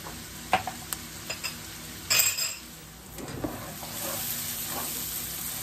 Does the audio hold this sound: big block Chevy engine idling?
no